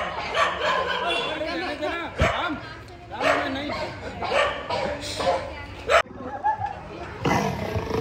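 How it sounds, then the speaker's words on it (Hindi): Dog barks and growls played back through a speaker, repeated yips and woofs in irregular bursts, mixed with a roaring animal sound and people talking over them. "स्पीकर में लगा दिया इसमें कुत्तों की आवाज।"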